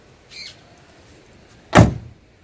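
Motor compartment door on a motor coach shut with a single sharp, solid slam, preceded by a brief faint squeak, then quiet.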